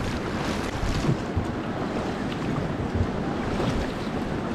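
Whitewater rapids on the Ganges at Rishikesh during a rafting run: a continuous broadband roar of churning water and wind buffeting, steady and loud with no voices.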